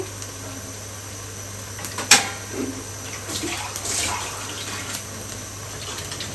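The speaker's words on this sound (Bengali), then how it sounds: "এখন পরিমাণ মতো পানি দিয়ে দিচ্ছি" Water pours steadily into a pot of boiling radish curry, a continuous splashing rush after a sharp clank, fairly close with no voices.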